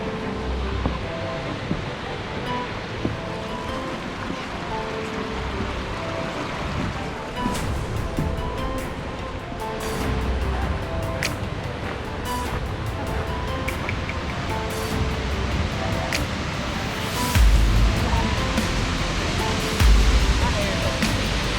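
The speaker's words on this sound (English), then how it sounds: "Silver One Falls is definitely worth the side trip." Silver Run Falls, a waterfall running with high water on a side trip south of Cashiers, gives off a constant broadband roar that swells a little louder near the end, close and unbroken.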